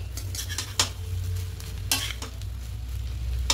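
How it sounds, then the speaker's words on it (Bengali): Vegetarian white fried rice being stirred and mixed in a pan, a steady soft sizzle of frying under scraping spatula strokes with a few sharper clinks of the utensil against the pan, close and moderately loud. "খুব ভালো করে মিশিয়ে নেব। খুব ভালো করে মিশিয়ে নিয়েছি।"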